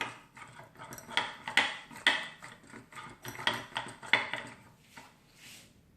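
A metal spoon clinks and scrapes against a bowl while dry spices are stirred together, a series of sharp, close taps in an irregular rhythm with no talk.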